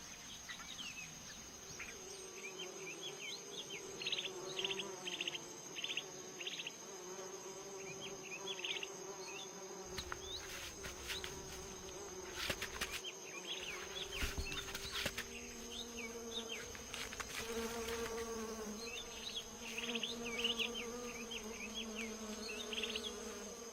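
Many flies and other insects buzz steadily and continuously around an animal outdoors, a dense close swarm drone with occasional louder passes near the ear.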